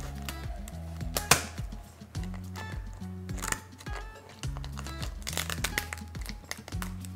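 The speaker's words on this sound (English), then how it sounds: "we're gonna snip right under the shell, okay, all the way down his back" Kitchen scissors cut along the back of a lobster tail shell, a dense run of close, crackling snips and crunches set against steady background music.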